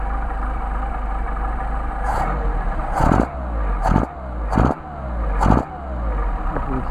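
A Mercedes 190SL engine on carburetor test, revved in four sharp blips that each fall back toward a rough, steady idle, close and loud with no talk.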